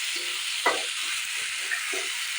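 Chopped tomatoes fry in a pan for paneer curry, a constant close hiss of sizzling oil broken by a few soft stirring scrapes.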